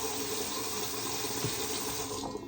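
Tap water running steadily into a bathroom sink during tooth brushing, a continuous close hiss and splash with no voices.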